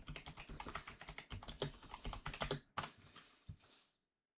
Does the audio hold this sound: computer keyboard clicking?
yes